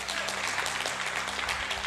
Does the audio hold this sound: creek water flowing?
no